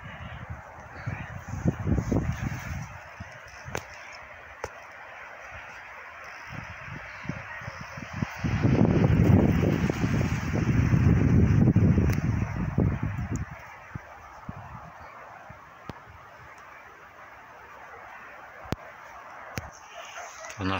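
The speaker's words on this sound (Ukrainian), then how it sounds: "Вітер." Wind gusts on a snowy December day outdoors, low rushing that swells and fades, loudest in the middle, with faint rustling around it and no clear talk.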